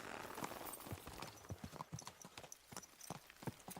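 Horse hooves clip-clop in a rainy medieval video game setting, a steady run of close, distinct hoof strikes with a faint whinny and a patter of rain underneath.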